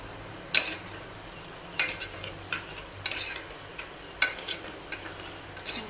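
Browned onions frying for a Gujarati lima bean curry, a faint background sizzle punctuated by sharp scrapes and clinks of a spoon stirring against the pan at irregular intervals.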